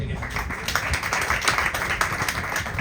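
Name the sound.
congregation clapping loudly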